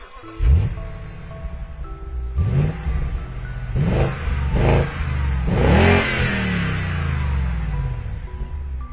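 A sports car engine revs hard in repeated bursts, each throttle blip climbing and falling before a longer, sustained roar near the end, loud and close with no talking.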